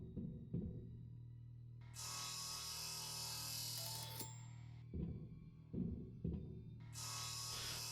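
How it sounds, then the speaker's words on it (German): A circular cutter saws through a wall in the space survival game Breathedge, a loud sustained high grinding whine in two long bursts, separated by lower rasping and thumping sounds. "mit dem Kreisding sägen da zurück"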